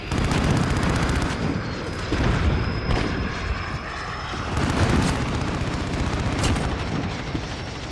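Dense gunfire from a shooter video game, with rapid repeated bursts and booming shots over a constant roaring engine-like drone, loud and sustained without speech.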